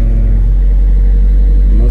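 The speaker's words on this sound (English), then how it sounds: "Okay, accelerate more. More speed." A car speeds up during a driving lesson, its engine a steady low rumble that rises slightly as it accelerates, with voices talking over it.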